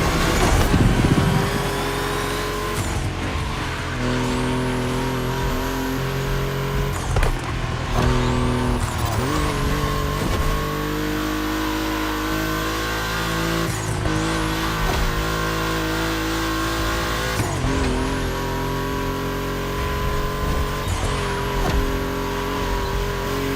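Racing engines of a Porsche 911 and an Audi Quattro roar through a race in The Crew Motorfest, with loud sustained revving and repeated gear-shift rises and drops over about twenty seconds, no voices.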